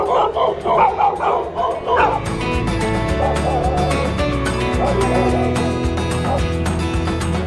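Dogs bark and yip in a quick burst of yelps, then quieter whimpers, beside a road during a cycling trip through Serbia from Loznica to Belgrade, with steady traffic or wind noise and voices underneath.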